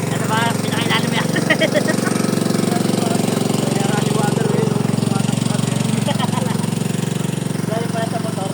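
A motorcycle engine runs steadily and loudly nearby at a summer outing in Tanay, a constant droning rumble with voices faintly audible over it at a few moments.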